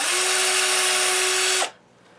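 A power drill bores a pilot hole for a bass guitar pickup screw, a loud steady high whine running for about a second and a half before cutting off abruptly into quiet.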